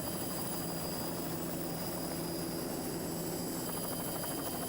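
A helicopter flies over a 1993 powerboat race, its rotor and engine a steady, dense, fairly distant drone that fills the whole stretch.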